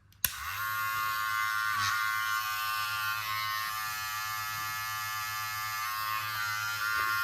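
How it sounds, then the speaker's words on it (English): A TPOB Troll Blackout trimmer fitted with its stock blade switches on with a sharp click, then holds a steady close buzzing hum with no talking. "quick look at the trimmer. Yeah, that's nice. Psycho blade comes stock on the Blackout Troll set"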